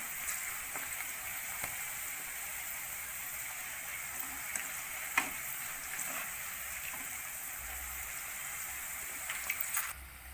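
Okra fries crisply in hot oil, a quiet, continuous sizzle with occasional small pops and crackles.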